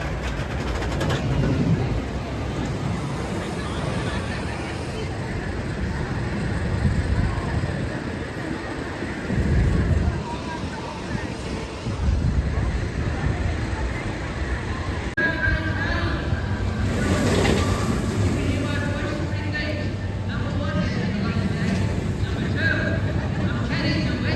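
Riding the Rocket roller coaster at a theme park on a busy day: a continuous loud rumble of wheels on track and rushing wind, swelling and surging throughout, with muffled voices mixed in.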